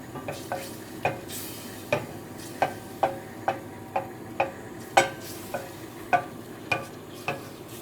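A spoon stirs macaroni cheese sauce in a pan until it melts, giving a steady run of regular scraping strokes about every half second, each one close and distinct over a low simmering background.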